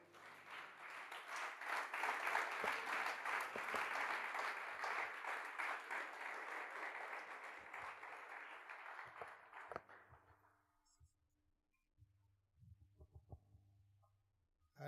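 A church congregation gives the pastor a long, loud round of applause and acclamation, dense clapping that swells early, holds for about ten seconds, then fades out, leaving a low hum and a few scattered claps.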